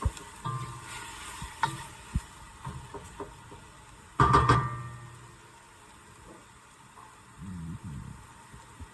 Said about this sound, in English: Let that simmer for a second so the alcohol burns out of it or evaporates out of it.